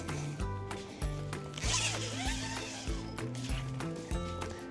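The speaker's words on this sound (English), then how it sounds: "Undo both of the zippers on either side." Zippers on the sides of a campervan pop-top roof are pulled open in a string of rapid rasping runs with short pauses between, close and clear, with no talking over them.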